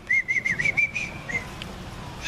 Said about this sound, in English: when he heard another whistle answer him